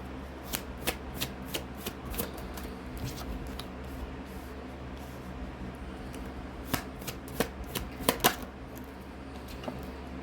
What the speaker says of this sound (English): we are going to go ahead and pull our cards out.